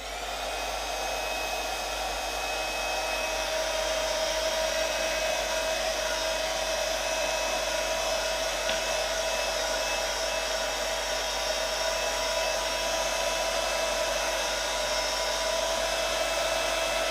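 Hair dryer drying ink on an embossed paper craft piece, a steady, continuous blowing whir with a faint high whine, close and alone for the whole stretch.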